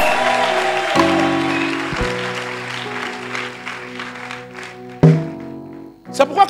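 A congregation claps during a French-language church service. Sustained keyboard or organ chords sound underneath, and the applause swells and fades in a reverberant room.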